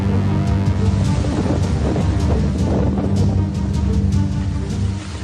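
Loud, rough roaring of stormy sea surf during Cyclone Biparjoy in Gujarat churns continuously, with heavy low rumble and sharp splashing crashes scattered throughout, no talking.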